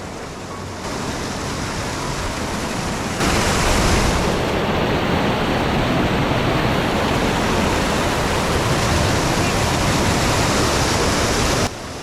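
A ten-tier waterfall at Tamini Ghat roars steadily at close range, a dense, unbroken rush of falling water that grows louder partway through and holds until the end.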